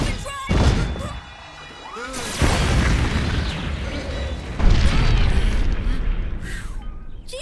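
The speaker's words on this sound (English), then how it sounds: "what a dopey landing" An animated crash landing booms and smashes in a loud, chaotic burst of impacts and rumbling debris, with a second heavy hit midway, no clear talk.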